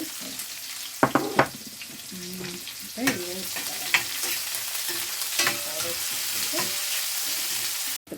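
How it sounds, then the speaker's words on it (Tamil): Onions are dropped into hot oil after cumin and mustard seeds splutter, producing a loud, close sizzle broken by repeated scraping stirs and clacks of a spoon against the pan, with no voices. "சீரகம் பொரிஞ்சிட்டு இந்த கடுகு பொரிஞ்சிட்டு அதுக்கப்புறம் வெங்காயம் போடுறேன்"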